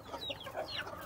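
A young Denizli chick gives a few soft, high chirping clucks among Brahma chickens, faint and brief with quiet farm background and no talking.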